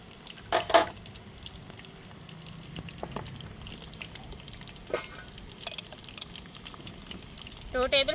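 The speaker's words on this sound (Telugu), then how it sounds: "ఇప్పుడైతే ఆయిల్ వేడిగా ఉంది నేనైతే ఒక పది వెల్లుల్లిపాయలు తలబాగా చితక్కొట్టుకొని వేసుకుంటున్నాను" Crushed garlic cloves, about ten, dropped into hot oil for a flat bean pickle, with a faint steady sizzle throughout, brief clatters of a utensil in the pan and a couple of louder spits near the start and end.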